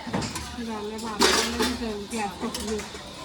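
Steel utensils and dishes clink and clatter as they are scrubbed during a family meal, with irregular metallic knocks sounding close by under ongoing conversation.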